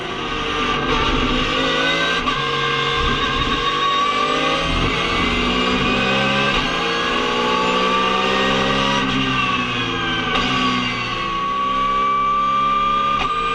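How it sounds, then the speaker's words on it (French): Porsche race cars at the Le Mans circuit, including the number 22 Porsche, with sustained loud engine roar and shifting revs as cars pass and accelerate throughout. "Julien Poncelet est ressorti 3e dans la Porsche numéro 22 et n'a d'autre choix que d'attaquer"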